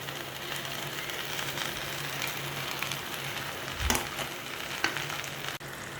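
Okra fries in a pan with a soft, steady sizzle, quiet and continuous, broken only by a couple of small clinks.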